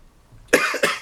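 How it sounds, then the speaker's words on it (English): A sick man coughs twice in quick succession, close and loud, two harsh bursts rising out of near silence. "Cough is just annoying"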